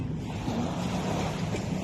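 Sea waves washing steadily behind a house on a coast facing desert, a constant close rushing surf with wind noise on the microphone and no talk.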